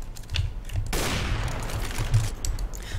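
Video game gunfire in a no-scope shooter match, a dense burst of rapid shots suddenly erupting after quieter background sounds and sustaining for about two seconds, fairly faint and without speech.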